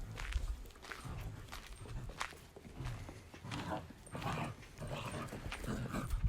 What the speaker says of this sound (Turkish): Yani Herkül koca bir köpek